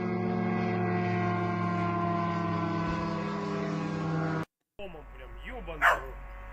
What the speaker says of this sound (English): Bro, they got that dog with them